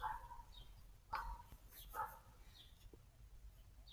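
A dog indoors gives a few faint, scattered barks and yips at a window, spaced about a second apart and heard at a distance.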